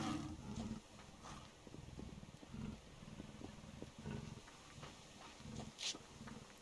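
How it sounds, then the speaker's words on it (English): A cougar in the survival video game Subsistence roars and growls in low, rumbling bursts that repeat over several seconds, fairly close and alone with no talk. "I hear a cougar."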